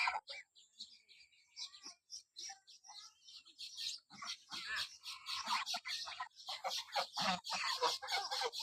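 A flock of adult farm ducks calls out in repeated, overlapping quacks and squawks, sparse at first and then growing denser and louder, close by.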